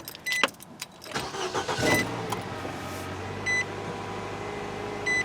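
A 2011 Nissan Sentra engine with no coolant, after head gasket replacement, cranks and catches, then settles into a rough, uneven idle with a low throbbing rumble and a few faint electronic beeps.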